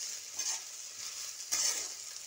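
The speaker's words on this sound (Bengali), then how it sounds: "আমি কড়াতে সাদা তেল দিয়ে এবার আমি এই সবজিগুলোকে ভেজে নেব" Vegetables frying in white oil in a wok, a soft sizzle with two scraping stirs of a spatula, one near the start and a stronger one later, quiet and close with no speech.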